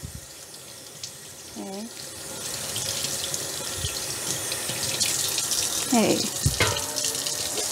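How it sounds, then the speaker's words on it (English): Pork belly being rinsed under a running kitchen tap, a steady close splash of water into a sink throughout, with brief talk heard over it. "And then I'm just going to rinse."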